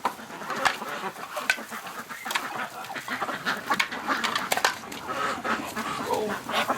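A flock of ducks quacks in a busy, overlapping chatter outdoors on a winter morning, loud and close, with no break in the calling.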